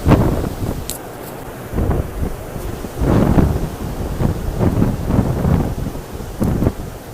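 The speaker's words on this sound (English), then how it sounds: "It's really freaking windy down here." Strong typhoon gusts buffet the microphone in repeated heavy bursts in central Hong Kong, a roaring, uneven wind with brief lulls between blasts.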